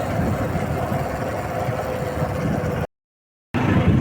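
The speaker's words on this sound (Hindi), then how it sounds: "और आज फिर बाइक की सैर।" A motorcycle engine hums steadily during a bike ride around Solan, with a loud, close drone and wind rumble, cut by a brief silent gap just before the end.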